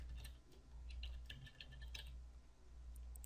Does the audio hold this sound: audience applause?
no